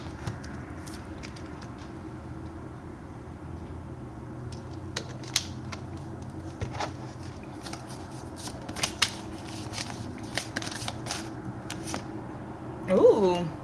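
Tarot cards being shuffled by hand in a series of soft, papery riffling bursts over a steady background hum, with a person talking around them.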